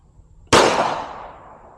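Single loud gunshot from a Masterpiece Arms 9mm 2011 pistol on an outdoor range, a sharp close crack followed by a decaying echo.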